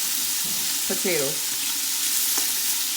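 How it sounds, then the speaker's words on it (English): Bacon frying in a pot for Zuppa Toscana, a steady close sizzle with a brief scrape of stirring, while a voice speaks a word over it. "you want to get this bacon nice and fried up and cooked all the way through"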